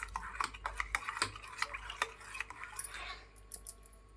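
A spoon stirs milk into sabja seed pudding in a bowl. Quiet, irregular clinks and taps of metal on the dish repeat through the whole moment.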